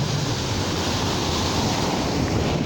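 Large ocean waves rolling in as the tide rises, a loud, unbroken roar of surf mixed with wind buffeting the microphone, with no voices.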